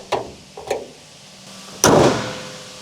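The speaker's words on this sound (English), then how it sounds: "Close the hood." Honda Civic hood shut during a coilover job: two light metallic taps and clicks early on, then a single solid slam with a short ringing tail, close and alone.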